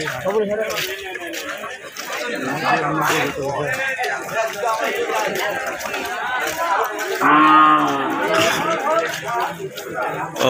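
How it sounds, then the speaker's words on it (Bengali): Cattle at a Bangladeshi Eid al-Adha livestock market moo repeatedly, with several loud, drawn-out lows rising over a crowd of people chattering and talking nearby. "এই একটা বড় গরু উঠছে এখানে, দেখতে পাচ্ছেন।"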